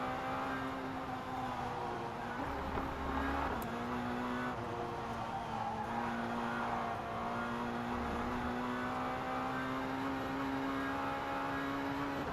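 A Formula 3 racing car engine in the rFactor 2 simulator, a steady droning whine holding a nearly constant pitch with slight shifts, heard continuously without talk.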